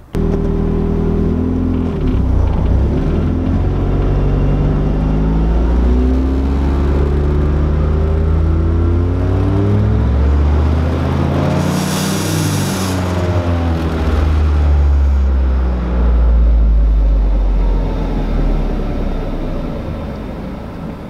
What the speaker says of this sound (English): I'm going to shut the engine off with the wheels still spinning